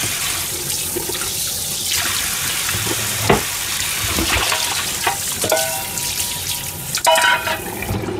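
Tap water runs steadily into a kitchen sink as vegetables are rinsed by hand, with occasional splashes, clunks and handling knocks close by and no speech.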